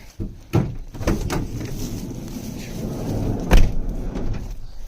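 The door of a Ford E-350 Super Duty van with a faulty latch shuts with a couple of sharp metallic knocks, one early and a louder one later, over steady outdoor background noise.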